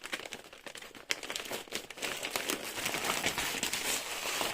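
Crinkly plastic packaging of a cross-stitch embroidery kit is torn and handled up close. The rustling and crackling is quiet but continuous, with a few sharp snaps.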